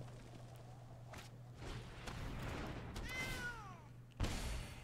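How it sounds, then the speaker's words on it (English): A cat meows once in a short, rising-then-falling call over a low background hum, with a few soft thumps and footstep-like taps around it and a sharper knock just after. "Hey, there's a cat."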